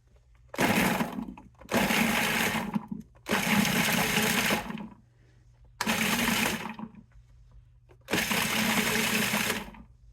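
Food processor pulsing carrots with its blade fitted, heard as five loud, close motor bursts of one to two seconds each, separated by short pauses, the chopping whir rising and cutting off sharply each time.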